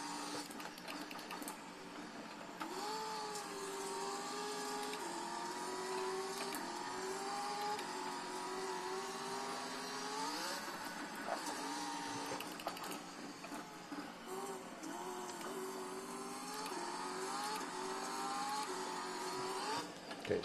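A simulated race car engine in iRacing holds a steady high-pitched drone throughout, its pitch climbing and dropping in repeated sweeps as gears change, continuous and uninterrupted with no talk.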